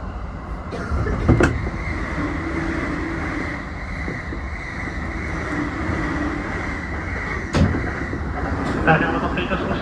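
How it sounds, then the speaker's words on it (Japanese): A JR Yokohama Line train rumbles steadily as it starts moving again after an emergency stop near Higashi-Kanagawa station, with clunks and knocks from the car and a conductor's announcement over the low rolling noise. "まもなく電車動きます。"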